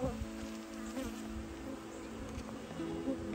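Honey bees from a weak, failing hive infested with wax moths buzz steadily close by, a dense continuous drone with several overlapping wingbeat tones.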